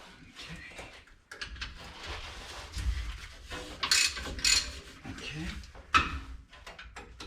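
A ratchet wrench clicks in short bursts while loosening a bolt near the header of a VW engine being removed, with tool clatter and handling noise close by and brief talk in between.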